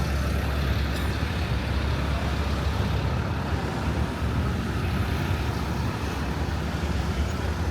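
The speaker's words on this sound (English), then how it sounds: "And this traffic is garbage." Road traffic with trucks passing makes a continuous rumbling roar at moderate distance, a steady wash of engines and tyre noise without clear breaks.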